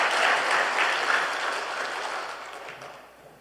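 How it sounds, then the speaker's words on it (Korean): A church congregation at a Sunday service applauding, with steady close clapping from many hands that starts strong and gradually thins and fades over a few seconds. "우리 다시 한번 격려의 박수를 보내드립시다."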